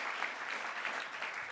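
Brief, dense applause from a gala crowd at a human rights foundation's anniversary celebration, a steady full-room clapping heard without talk.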